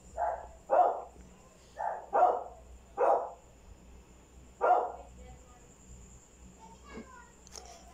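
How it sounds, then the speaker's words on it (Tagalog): A dog barks five times in irregular bursts, fairly close, over a quiet background with a steady faint hum. "medyo maingay ang aso dito."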